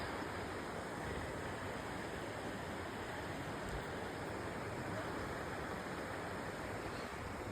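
A waterfall at Mahabaleshwar roars as a faint, continuous, even rush of water heard from a distance, with no change in level.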